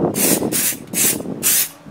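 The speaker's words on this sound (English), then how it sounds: "I usually give a quick little spray" Mold release spray hissing onto a lens mold in four short aerosol bursts at a quick, even rhythm, close and loud, with no talking.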